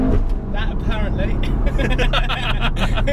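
Engine of a Golf GTI Clubsport S heard from the cabin while driving, a loud continuous drone with rising and falling tones and busy road noise throughout.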